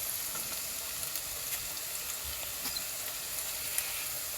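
Garlic paste frying in a pan with onion gives a steady, faint, continuous sizzle with small crackles throughout and no talk.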